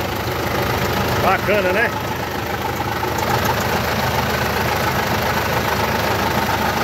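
A diesel engine of a 1979 Mercedes-Benz 1313 truck idles with a steady low rumble and knock, close by, while someone talks briefly over it.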